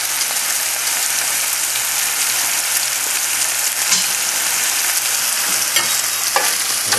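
An egg frying in a hot pan, with a loud, dense, continuous sizzle and spatter close up, a steady hiss that stays even throughout with occasional sharper pops.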